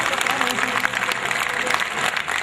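Audience applause at a Hindi kavi sammelan poetry recital, a dense steady wash of many hands clapping throughout, loud and continuous with crowd noise mixed in.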